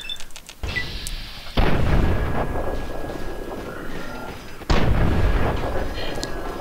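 Gunfire from a sentry bot in Fallout 3, with two heavy booming blasts landing a few seconds apart amid sustained rumbling combat noise, while someone talks over it.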